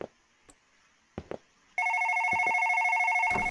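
A phone rings with a steady, loud electronic tone that starts abruptly after a few faint knocks and clicks, then continues unbroken to the end.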